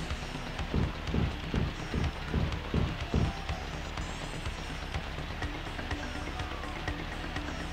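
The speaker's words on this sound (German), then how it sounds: "Es regnet tatsächlich, oh nein." Rain falls steadily in the video game Grandia, a soft continuous hiss throughout, with a run of rhythmic thuds like footsteps early on before the patter carries on alone.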